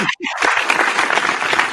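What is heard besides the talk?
applause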